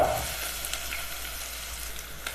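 Ginger, garlic and shallots sizzle in hot oil in a pan, a loud close steady frying hiss over a brief stretch, with a faint stir near the end.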